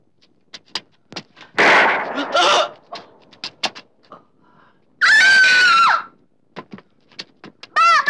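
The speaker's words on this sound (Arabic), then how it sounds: "رصاص؟ مين اللي ضرب رصاص؟" Sharp gunshot-like cracks pop irregularly in an Egyptian film scene, mixed with loud screams and shouting bursts; the shots are scattered singles, fairly close.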